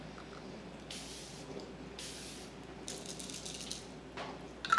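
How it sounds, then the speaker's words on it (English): A pump setting spray mists onto a face in several soft, hissing bursts of fine continuous spray, quiet and close against a faint background. "It delivers a very fine, continuous mist."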